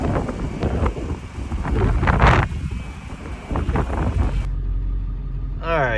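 Strong wind gusts outdoors, buffeting the microphone with a loud, rough rumble that swells and eases before dropping off near the end.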